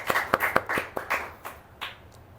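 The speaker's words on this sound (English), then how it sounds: "Yes, I think that calls for a round of applause." A few hands clap in separate, uneven claps at an interview event, close and sharp at first, then thinning out to sparse, fainter claps.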